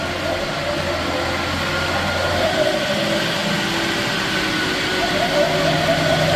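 A 2015 Moffett M8 55.3 truck-mounted forklift runs a steady, close engine drone as it drives a figure 8, a constant low mechanical hum with no break.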